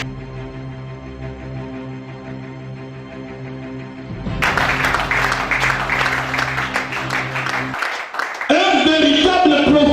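Audience applause in a preaching hall breaks out partway through, a dense wash of clapping layered over sustained music, rising loud and continuing to the end with a brief dip near the close.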